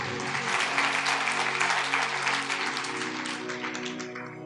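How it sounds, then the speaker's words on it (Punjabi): A sermon gathering gives loud, sustained applause, a thick even roar of clapping hands over a low steady hum from a sound system, fading a little toward the close. "ਤਾਲੀ ਮਾਰੀਏ ਜ਼ੋਰ ਦੀ।"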